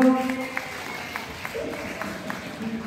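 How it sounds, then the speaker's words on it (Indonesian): Applause from principals in the audience at a real estate agent gathering, a scattered burst of clapping under a crowded hall's murmur that fades within a few seconds. "Mana para prinsipal, tepuk tangannya dong."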